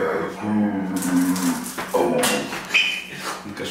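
A dog whimpers and yelps a few times at close range, with muffled background noise and brief clattering.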